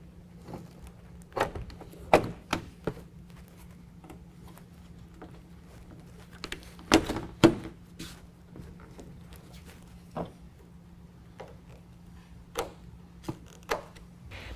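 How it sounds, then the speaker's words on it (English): A Roll-N-Lock tonneau cover's canister cover is refitted on a 2019 Chevy 1500 pickup, with sparse plastic clicks, taps and knocks spaced irregularly, including a louder cluster midway, over a steady low hum. "Now we're going to go ahead and reinstall the canister cover the same way that it came off."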